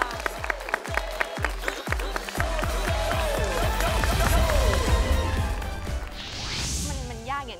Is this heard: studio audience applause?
yes